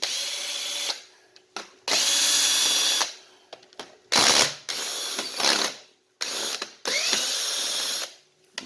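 Power drill driving out a screw on the front cover of an airless paint sprayer, sounding in repeated loud whirring bursts of about a second each, split by short pauses, close up with no talking.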